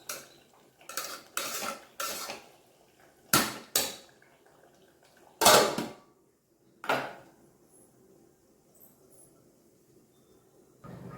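A cooking session where a heavy dosa griddle is set down on the stove beside a pot of rice, giving scattered metallic clanks and scrapes of pans and utensils, separated by quiet pauses.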